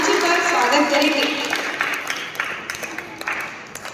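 An audience at a school inter-house poetry recitation event claps loudly to welcome the chief guest to the stage, and the steady applause fades into scattered claps over a few seconds.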